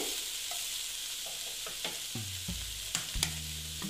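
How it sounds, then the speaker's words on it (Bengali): Food fries in a pan with salt added, a soft steady sizzle broken by spatula taps and scrapes against the pan, close and quiet, with no talking. "নুনটা দিয়ে আবার আমি এইভাবে ভেজে নিচ্ছি।"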